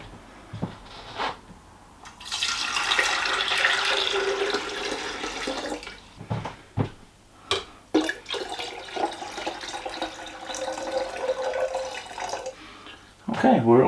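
Tap water running into a kettle, a steady splashing pour that stops and restarts, with speech heard over it at times, close to the listener.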